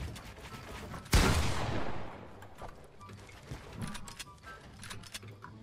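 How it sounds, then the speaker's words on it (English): A single sharp, loud sniper shot cracks in a first-person shooter video game and rings out in a decaying tail, followed by quieter scattered clicks and thuds. "Oh, I'm getting sniped."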